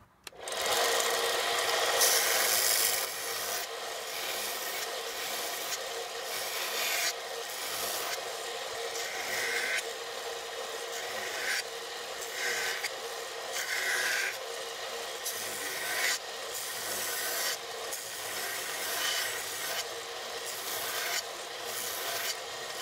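Steady, rhythmic rasping strokes of hand sanding a steel knife blade to remove grind marks, repeating continuously at close range without any talking.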